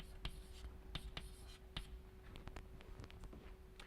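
Chalk tapping and scratching on a board in a lecture room, a run of short strokes close by, quiet under a steady hum.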